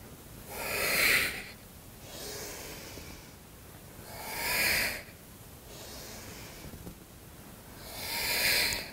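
Slow, audible breaths during a hatha yoga flow: three deep airy exhales swell and fade at roughly three-second intervals, with quieter inhales between them, close and soft, with no talk.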